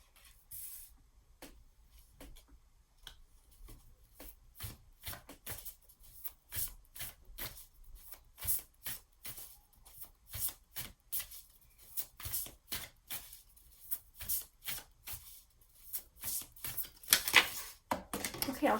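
Tarot cards are riffled and shuffled in quick, soft, papery bursts that speed up toward the end, with a few cards slapping down. The sound is quiet and close.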